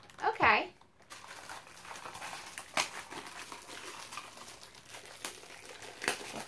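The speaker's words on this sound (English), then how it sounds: "I'll take it out of the plastic bag so you can see it a little bit better." A plastic bag crinkles sharply in a short, close burst as an item is taken out, followed by faint scattered rustling.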